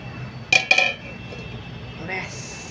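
A metal lid clinking onto a simmering curry pot with ghee and garam masala on a homemade tub stove, two quick bright clanks close by, then a quiet background hum.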